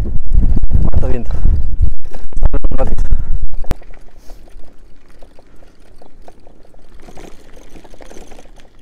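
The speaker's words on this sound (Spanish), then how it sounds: "Holy, cuánto viento" Strong wind buffeting the microphone of a cyclist, loud rumbling gusts at first, then dropping to a lower, steadier rush.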